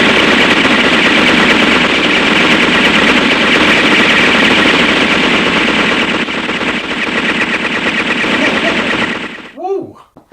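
Sustained machine-gun fire rattles loudly and continuously for about nine seconds, then cuts off abruptly, followed by a brief whooping vocal sound at the end.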